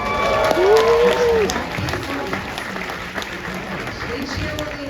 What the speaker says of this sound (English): You deserve all the cheers, and they will give them to you.